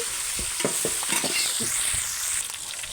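Green chillies and cumin frying in oil for a chutney, a steady bright sizzle with repeated scraping stirs, close and continuous with no talking.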